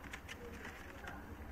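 A Batera pigeon, a quality bird offered for sale, coos softly in repeated low murmurs, close by amid faint background noise.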